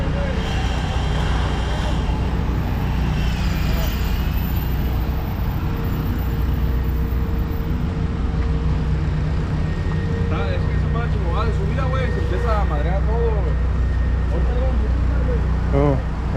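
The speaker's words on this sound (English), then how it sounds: "We're kind of caught in traffic for a second, so we'll wait." Constant traffic rumble fills a busy stretch of Van Ness Avenue in San Francisco amid road construction, with vehicles idling and moving steadily close by and a few brief higher tonal squeals in the second half.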